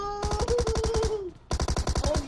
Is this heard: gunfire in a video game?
yes